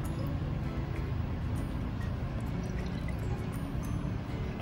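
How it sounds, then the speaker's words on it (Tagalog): Water poured into a pot of galunggong fish wrapped in banana leaves with patis, a steady, close splashing pour that runs without a break from start to end. "Sa ngayon naman, ilalagay na natin ang ating tubig."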